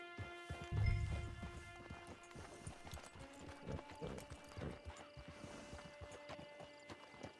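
Horse hooves in Red Dead Redemption 2 clip-clop in a faint, steady rhythm, with a brief low thump and a soft background tone underneath.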